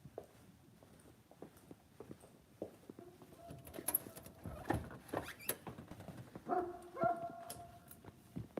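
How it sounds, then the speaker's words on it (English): A dog barks outdoors at night in a rural area, a few faint, distant barks scattered among rustling and footstep-like noises, with no close sounds dominating. "Do you hear that dog?"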